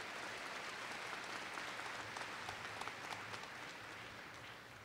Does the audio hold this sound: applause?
yes